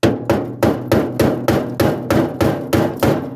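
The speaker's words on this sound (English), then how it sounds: "What I'm gonna use is this punch and a hammer." Hammer blows on a steel punch while working on a Ford Capri donor car, about nine sharp metallic strikes in a steady rhythm, close and loud, with no talking.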